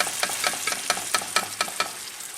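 Tomatoes stirred in a hot frying pan for okra stew, a continuous close sizzle broken by quick rhythmic spatula scrapes, with no voices.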